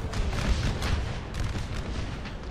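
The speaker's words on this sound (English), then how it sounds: "Confederates cannot hold against this artillery barrage." Continuous rumbling artillery barrage from Napoleon Total War with the ACW HardCore mod, a Shiloh Civil War battle: dense overlapping booms and cracks at steady loudness throughout, with no talk.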